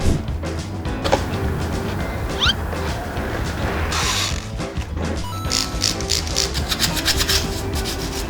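Steady scrubbing and rubbing against a stiff car air-conditioning filter, first removed in fifteen years, continuous and close, with scraping strokes, a few knocks and occasional water-like hiss, no talking.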